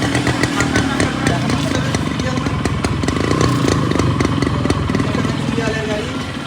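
A CDI motorcycle engine starts and runs at a showroom, its rough, rapid popping idle loud and close throughout, with people talking over the engine noise.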